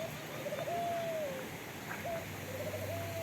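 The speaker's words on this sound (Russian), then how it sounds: "Зато голуби есть в большом количестве." Pigeons in large numbers at the Wind-in-Love castle grounds in Ravadinovo near Burgas, Bulgaria, give drawn-out cooing calls, one long coo followed by shorter ones, over a steady outdoor background hum.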